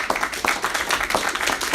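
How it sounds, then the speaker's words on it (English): A brief burst of audience clapping at a neighborhood association general meeting in a room, a quick round of scattered hand claps lasting under two seconds, with no one talking over it. "just a quick round of applause to everybody working so hard in the neighborhood."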